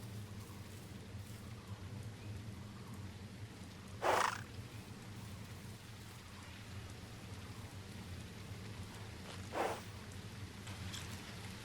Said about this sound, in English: The first drops of rain kissed the jungle's canopy.